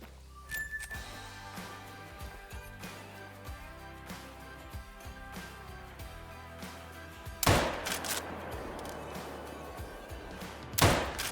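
Rifle shots ring out in the hunting game Call of the Wild, with two loud sharp cracks spaced a few seconds apart over a quieter stretch of small clicks and thumps.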